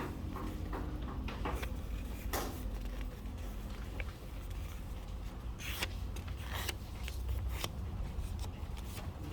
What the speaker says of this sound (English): after you fold it like a hamburger again, fold it again, last time